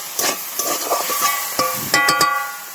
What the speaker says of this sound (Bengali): ভালো করে সুন্দর করে ভেজে নেবো